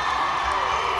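A roller derby crowd at a championship game cheers on Kansas City, a brief dense wash of arena roar and shouting with no break.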